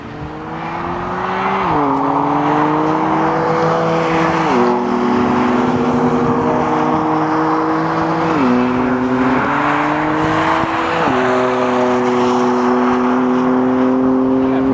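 A BMW M3 race car at a club track day, its engine droning loud and steady with sharp pitch drops at each gear shift as it accelerates and zips along the circuit.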